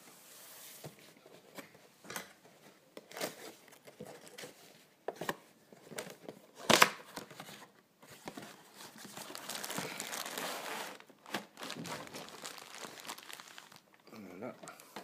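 Packaging for a Dragon Ball Z Shenron collectible figure is opened by hand, with sporadic close crinkling, tearing and rustling of plastic and cardboard, louder in bursts, while someone talks quietly at times.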